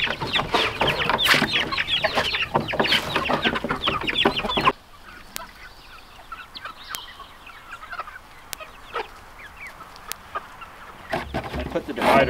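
Chickens cluck in a busy flock, loud and close at first, then quieter scattered clucks and chirps with a few sharp calls, and a brief voice near the end.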